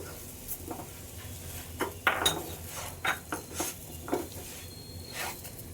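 Semolina and sugar stirred in a pan for pineapple shira, with irregular spoon scrapes and metallic clinks against the pan over a soft background, no voices.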